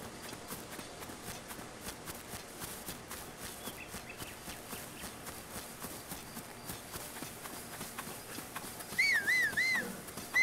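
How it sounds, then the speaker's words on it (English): A horse's hooves clip-clop in rhythmic steps as it is ridden in the video game Zelda: Tears of the Kingdom, fairly soft under a game soundscape, with brief whistling tones near the end. "I got a horse to ride on."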